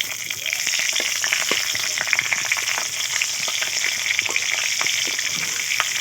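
Green chillies and bay leaves frying in hot oil for a village-style chicken curry: a steady, bright sizzle with scattered pops and crackles throughout, close and continuous, with no talk.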